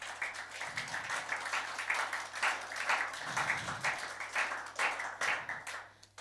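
A church congregation claps hands during a morning worship service, a dense, continuous patter of many palms in loose rhythm, fairly loud, mixed with swelling music and faint voices.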